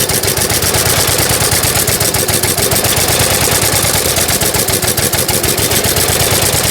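A 1904 De Dion Bouton veteran car's single engine runs at raised revs, a loud, rapid, even mechanical clatter with rhythmic chugging pulses, close and continuous with no talk.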